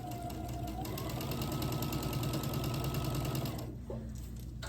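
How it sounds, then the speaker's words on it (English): A sewing machine stitches a quarter-inch seam through quilt fabric for a scrappy pinwheel block, a fast even whirring run that holds steady for several seconds, then stops with a soft clunk. "So I'm gonna line it up and then sew a 1/4 inch."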